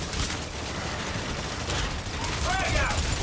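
Rapid gunfire in the ExoPrimal video game, a dense crackling spray of shots with a few sharper bursts, close and steady throughout, with people talking over it.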